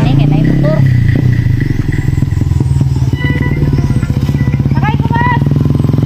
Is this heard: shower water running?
no